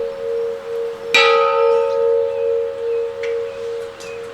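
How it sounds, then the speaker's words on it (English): A farm dinner bell rings out sharply once, then its bright tone hums and slowly fades, with a few faint softer strikes following. "There's a first dinner bell for 20 minutes, and then there's another dinner bell"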